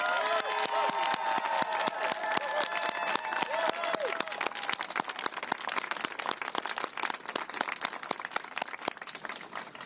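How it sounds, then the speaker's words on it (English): Sustained crowd applause at an outdoor pro-choice rally in Seattle, steady dense clapping at moderate distance with scattered cheers and voices mixed in throughout. "Let us applaud you."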